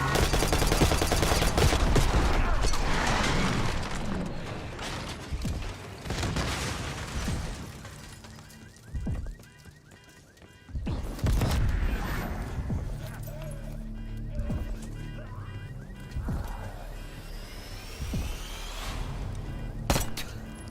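Gunfire in a gaming stream, with bursts of rapid shots and heavy impacts scattered across a busy mix of game sounds and voices, fairly loud at first and then intermittent.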